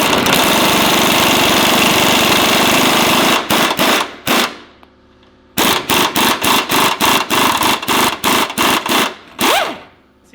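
A 1/2 inch impact gun drives a bolt during a Curt tow hitch install on a Ford Transit, hammering in one long loud burst, then a string of short, rapid rattling bursts close up.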